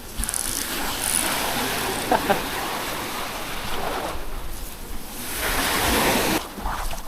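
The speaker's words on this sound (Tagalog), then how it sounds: "Masyadong malakas ang alon eh." Strong, rough ocean waves keep up a steady broadband wash of surf while fishing from the shore or a boat, with wind buffeting the microphone and a short voice partway through.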